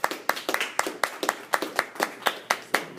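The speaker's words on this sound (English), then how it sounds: "So I think you all deserve a round of applause." A group of staff at an in-service training session clap in a fairly slow, regular rhythm, about a dozen distinct claps in a steady round of applause, close and clear with no talk.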